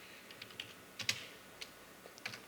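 Soft, sparse keystrokes on a computer keyboard as a search is typed, a few scattered clicks and a brief cluster, quiet and close with no voices.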